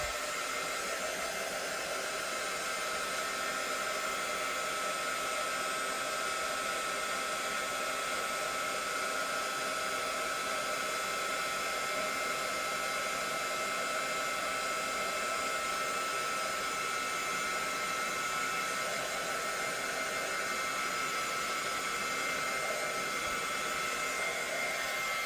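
A hair dryer blows steadily to dry layers of mixed-media paint, producing a continuous, even, airy whoosh and motor whine that runs unbroken and fairly quiet throughout.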